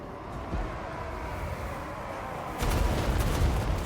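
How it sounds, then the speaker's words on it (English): Hell cannons firing in the video game Total War Warhammer 2, with a steady rumble of battle noise that jumps into a louder burst of heavy booming blasts partway through. "Those hell cannons are going to hurt significantly."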